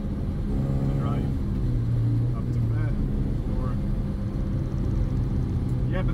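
A 1989 Toyota MR2 AW11 with a 4A-GE engine drives with a steady, loud engine drone and wind noise from inside the car, with a few faint short voice sounds over it.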